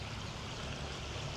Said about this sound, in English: Beautiful water feature in here.